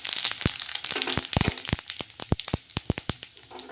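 Asafoetida and whole cumin seeds crackle in hot oil, a fast irregular burst of sharp pops and snaps, loud and close, growing denser toward the end.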